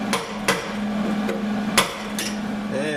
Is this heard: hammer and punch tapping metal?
yes